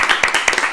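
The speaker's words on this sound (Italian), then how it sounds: "Un applauso." Brief burst of audience clapping, a few distinct sharp claps standing out over a lively scattered patter, with some voices mixed in.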